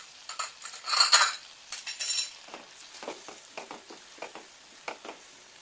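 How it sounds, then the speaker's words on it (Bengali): Paneer curry with gram flour and yogurt being stirred in a pan, a spoon scraping and clinking against the metal in short irregular strokes over a soft sizzle, close and fairly loud at first, then quieter. "এবার নাড়িয়ে চাড়িয়ে মিশিয়ে নিলেই রান্নাটা একেবারেই তৈরি হয়ে যাবে"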